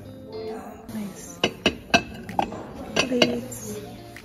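Ceramic plates and tableware handled on a shop display, giving several sharp clinks and knocks in an irregular cluster, close by, with a quiet voice and background murmur around them.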